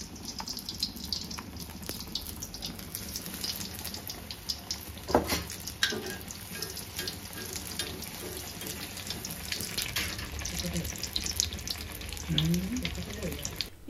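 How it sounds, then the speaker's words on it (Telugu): Brinjal bajji, battered eggplant slices, fry in hot oil, a steady bubbling hiss with scattered crackles and a few clinks of a utensil, close up under a faint voice. "2 పక్కల బాగా వేగిన తర్వాత తీసివేయాలి"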